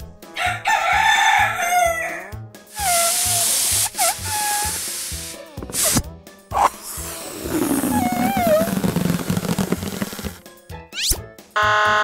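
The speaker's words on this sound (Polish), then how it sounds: "kogut," A rooster crows on a farm, its loud drawn-out cock-a-doodle-doo sounding several times close up, mixed in with other barnyard fowl calls and clucks.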